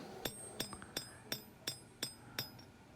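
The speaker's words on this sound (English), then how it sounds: "Using my hammer and keeping my blade off the anvil" Hammer blows ring sharply on a kitchen knife blade held over an anvil, about eight evenly spaced metallic strikes with bright clinks and a few lighter taps between them.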